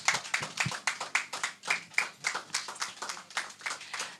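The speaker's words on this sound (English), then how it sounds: "Let's give a warm clap." Audience clapping warmly after a poetry reading at a bookshop, a small crowd producing steady, fairly sparse hand claps with distinct individual slaps, moderately close and continuing for several seconds without talk.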